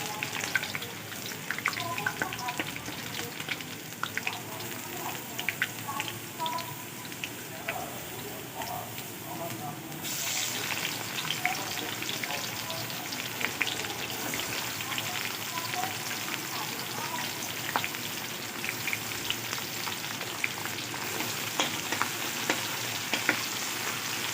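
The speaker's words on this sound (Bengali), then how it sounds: "এবার পেঁয়াজ কুচিটা দিয়ে দেবো" Steady, dense sizzling of chopped onion frying in hot oil after garlic, continuous and close, with occasional stirring clatter.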